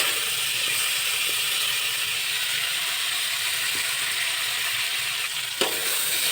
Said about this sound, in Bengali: এবারে নুন হলুদ দিয়ে আমটা একটু ভাজলাম।